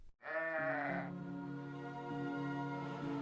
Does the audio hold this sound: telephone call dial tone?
no